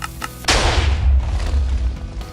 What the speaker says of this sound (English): press the button at the back to launch the TNT and see the cannon work its magic